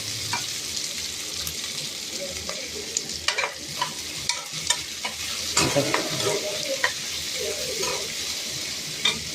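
Onions sautéing and being stirred in oil, with a steady sizzle and repeated scraping and clinking of a spoon against the pan, up close. Faint talk is present in the background.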